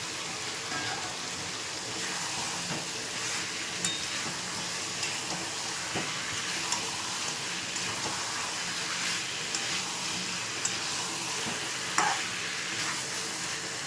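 Potatoes going into chicken frying in a pot keep up a steady, close sizzle for the whole clip, with scattered stirring clatters and a few sharper scrapes. No one speaks.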